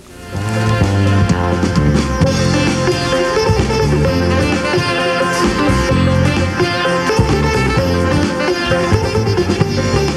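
A sitar leads a full, driving jazz fusion band in dense, continuous music that plays loudly throughout.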